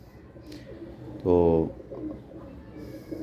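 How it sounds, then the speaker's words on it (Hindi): A single pigeon gives one close, throaty coo lasting under half a second, with faint background noise and a brief word of speech nearby. "कबूतर बड़ा मेन है वो, देखें वो घुटक रहा है"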